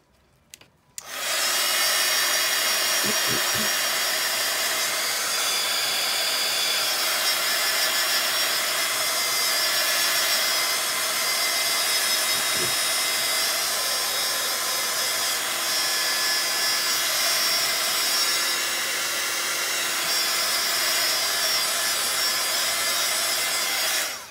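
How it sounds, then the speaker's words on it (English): A craft heat tool blowing hot air onto a craft project, a constant loud whooshing fan hum running nearly the entire time after a click as it switches on, with a couple of faint taps underneath. "So I'll just hit it with the heat tool quickly."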